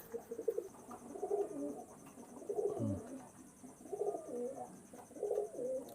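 Pigeons, breeding pairs kept for sale, coo repeatedly at close range in soft, rolling phrases, one after another, over a faint steady hiss.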